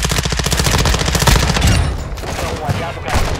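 Rapid bursts of automatic gunfire rattle loudly and continuously, with video-game effects layered over them, in Call of Duty DMZ on Ashika Island.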